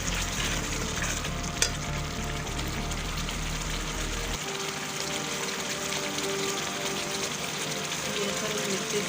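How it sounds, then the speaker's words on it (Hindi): Chicken and potatoes fry in a pan for a pea kofta curry, a continuous close sizzle with occasional stirring that runs steadily through the whole stretch. "चिकन और आलू की अच्छी तरह भुनाई हो रही है।"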